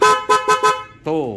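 Dual snail horns fitted to a Vespa scooter blare four short, loud honks in quick succession, then one longer blast, right up close; a brief vocal sound slips in between.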